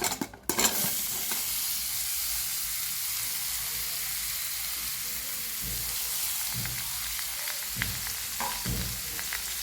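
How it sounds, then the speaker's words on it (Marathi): Grated mango fries in a pan with cinnamon and cloves as it is stirred for a sweet mango preserve. A continuous close sizzle runs under occasional scraping strokes of the spoon, with a brief clatter at the start and no talking. "आता यामध्ये खिसलेला आंबा टाकून घेते"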